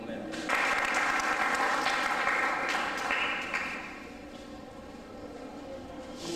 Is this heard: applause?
yes